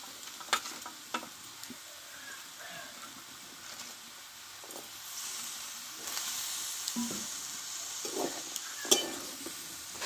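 Spinach shoots tossed into a hot frying pan and stirred, a soft steady sizzle with scattered clicks and scrapes of the spoon against the pan, close and moderately loud.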